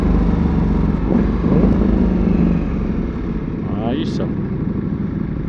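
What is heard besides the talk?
Ducati Diavel 1260 motorcycle engine cold start and revving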